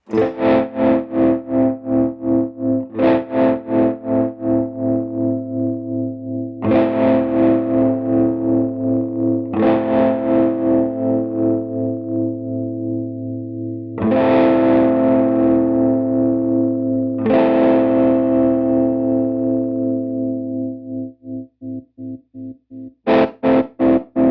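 Distorted electric guitar chords pulsing rapidly on and off through a Beetronics Zzombee tremolo pedal, the throbbing rate and depth shifting between strummed chords.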